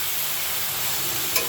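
Amaranth stem greens hit a hot frying pan already seasoned with salt and turmeric. A steady, loud broadband sizzle and hiss runs throughout, with no voices.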